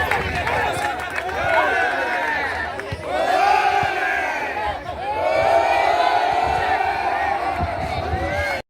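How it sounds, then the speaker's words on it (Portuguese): A football crowd at a Campeonato Piauiense 2025 match between Parnaíba and Atlético Piauiense boos and shouts in loud, swelling waves of massed voices that surge and dip across the stadium. "o torcedor, que não é bobo, já sem paciência, começou a vaiar o time"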